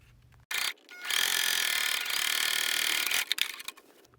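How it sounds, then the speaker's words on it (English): A sewing machine runs a straight line of stitching down the middle of a fabric tote bag pocket, a steady close mechanical whir lasting a few seconds, bracketed by brief clicks as it starts and stops. "We're sewing down the middle of the pocket now so we can make one pocket 2 pockets."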